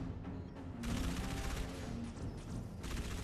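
Sustained gunfire from Halo ODST, dense overlapping shots and bursts layered over game ambience, loud and continuous with no voices.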